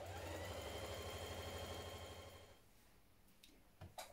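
A sewing machine stitching the underarm seam of a dress sleeve, running with a steady fast mechanical hum for about two and a half seconds before stopping, followed by a few faint clicks and handling sounds.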